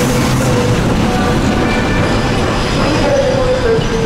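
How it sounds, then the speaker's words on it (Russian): A suburban Yelenovka–Donetsk train arriving at a station platform, a loud steady roar of rolling wheels and rumbling cars close by with a faint squeal of wheels rising near the end. "На первый путь прибывает пригородный поезд Еленовка-Донецк."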